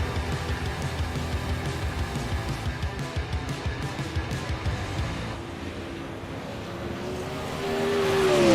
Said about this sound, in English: enjoy this beautiful sound of these super lates